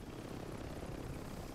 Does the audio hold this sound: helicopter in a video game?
yes